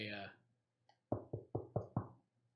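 A sharp run of five close knocks on a front door in an even rhythm, following a brief spoken phrase and a faint clink.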